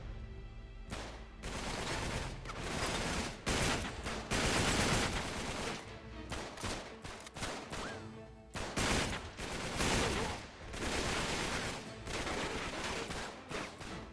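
Gunfire from a weapon in the video game Uncharted 3 comes as dense repeated bursts of shots, loud and continuous with brief pauses, over the game soundtrack.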